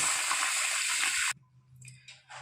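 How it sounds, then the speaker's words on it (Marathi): Rice is washed in water in a kitchen, with a loud, steady rush of splashing water for just over a second before it cuts off, leaving quieter, brief watery sloshes. "तर याच प्रकारे तांदूळ धुवून घेऊया 2-3 वेळेस"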